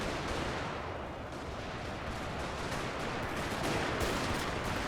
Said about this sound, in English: An artillery crew that's still operating here, I think, as well.